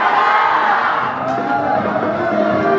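Crowd cheering at a Korean tattoo artists' association awards ceremony and year-end party, loud sustained whooping and shouting from many voices, close and continuous, with little distinct clapping audible.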